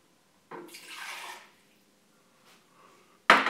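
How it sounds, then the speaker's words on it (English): Water is poured into a Vitamix blender jar in a short splashing burst, followed by quiet drips and a brief louder clatter at the end. "Start with about a cup of water."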